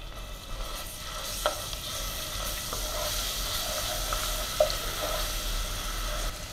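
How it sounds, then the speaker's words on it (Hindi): Garlic paste frying in hot oil for an Andhra chilli chicken curry, a steady close sizzle with occasional stirring clinks and scrapes throughout, no voices. "इसी ऑयल को हम यूज़ करेंगे और इसमें डालेंगे लहसुन का पेस्ट और इसे 1 मिनट भूनेंगे।"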